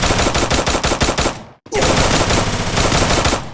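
Rapid automatic gunfire in a video game, a loud close burst of evenly spaced shots that cuts off abruptly, then resumes after a brief silence as a dense continuous volley.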